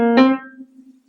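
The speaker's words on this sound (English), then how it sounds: "the first riff that I have composed uses the minor third, the root and the seventh" A short blues riff built on the minor third, root and seventh: a single plucked, harmonically rich note that rings out and decays over about a second, played alone.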